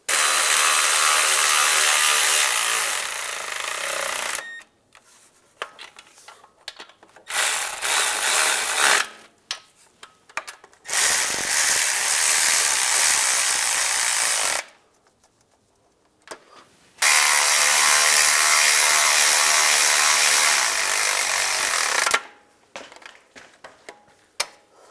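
Ratchet tightening nuts onto the transfer case studs of a 2007-2013 Chevrolet Silverado truck, heard as four bursts of rapid, loud, close clicking separated by short quiet pauses.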